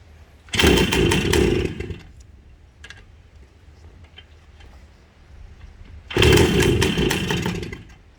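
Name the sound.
1974 Honda CR250M Elsinore motorcycle engine running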